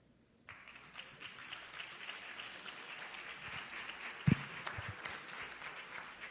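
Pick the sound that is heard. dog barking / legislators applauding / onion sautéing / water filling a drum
legislators applauding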